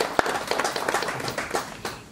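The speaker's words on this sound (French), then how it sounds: "J'aimerais aussi que vous applaudissiez pour l'ami Célestin qui est avec nous ce soir." An audience at an evening Rotary club gathering claps, a sparse, uneven patter of hand claps at moderate distance, one sharp clap near the start, fading slightly toward the end.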